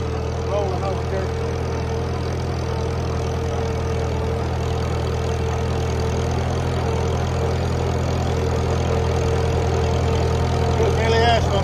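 A 1959 Farmall 140 tractor pulling an IH 296 two-bottom 14-inch plow through dirt, its engine a steady close rumble and drone holding throughout, with someone talking over it.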